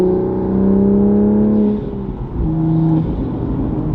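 A modified Toyota Supra with a manual gearbox and aftermarket exhaust revs loudly in sport mode, its deep, steady engine drone rising and falling through two sustained pulls, close and without talk.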